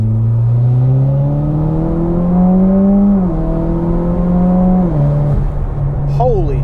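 Mitsubishi Evo X accelerating hard up a hill, engine note climbing steadily in pitch through the gear with a shift and renewed pull, loud and close from inside the car.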